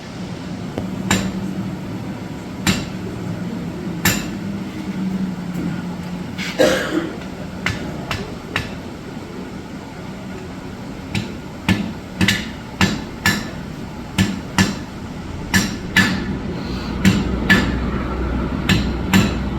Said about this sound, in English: all that upsetting I just did, I'm forging it out.